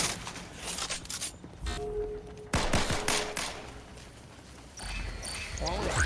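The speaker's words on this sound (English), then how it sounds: "Stop shooting me!" Bursts of gunfire in Fortnite crack at the player in rapid clusters, with sharp shots breaking out between quieter game ambience and a faint chirping background.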